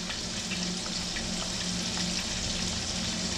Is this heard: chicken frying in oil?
yes